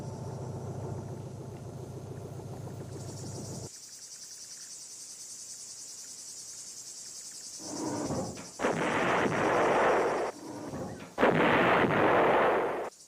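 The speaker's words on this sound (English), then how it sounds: "The 130mm field gun had a range of 19 miles, further than any comparable American gun." Vietnam-era 130mm field gun artillery fire near the DMZ: after several seconds of insect chirring and a hissing drone, heavy booming blasts arrive in a ragged series, loud and broad, each rolling on for about a second.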